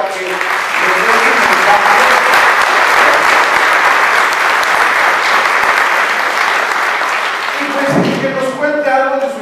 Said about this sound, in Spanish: Vamos a dar un aplauso grande